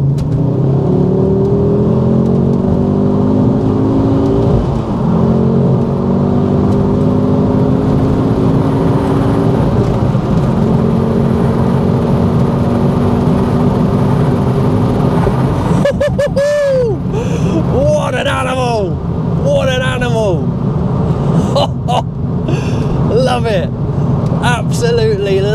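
A Mk2 Ford Focus RS with a Mountune MR375 upgrade pulls hard at full throttle, a loud, steady engine roar rising in pitch from inside the car, with excited voices breaking in over the last stretch.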